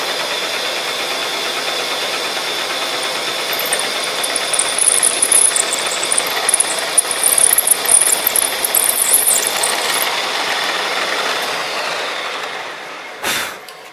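A drill bores holes in metal parts for a Cub Cadet 1650 four-wheel-drive tractor build, a steady, close, loud whirring grind that rises with rougher chatter midway and ends with a brief knock, no talk.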